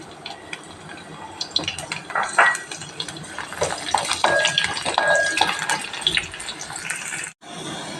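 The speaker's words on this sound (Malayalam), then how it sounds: "ചൂടായ എണ്ണയിലേക്ക് നമ്മൾ എടുത്തു വച്ചിരിക്കുന്ന വെള്ളുള്ളി ഇട്ട് കൊടുക്കാം" Garlic dropped into hot sesame oil for a bilimbi pickle, crackling and spattering close up with clinks of a utensil against the pan, the sizzle building then cutting off abruptly near the end.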